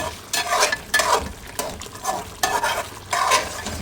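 Country chicken meat being stir-fried in a pan, with loud repeated scraping stirs over a continuous sizzle, close and rhythmic, no talking.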